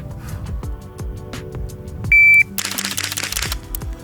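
An electronic shot-timer beep is followed by a quick string of gunshots from an Angstadt Arms Vanquish pistol caliber carbine on a shooting range, preceded by scattered sharp clicks and taps.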